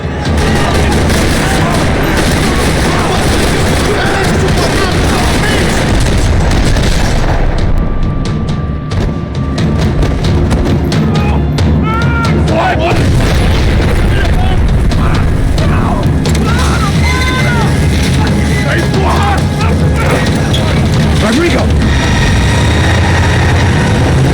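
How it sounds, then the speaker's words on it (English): Gunfire rattles across a parking lot in the video game Max Payne 3, loud bursts and booms over a heavy engine-like roar, with game sound filling the whole stretch. "Another parking lot rattling with gunfire."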